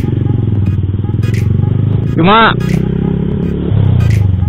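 A motorcycle fitted with a racing exhaust idles close by with a loud, throbbing low rumble, while a person briefly speaks over it.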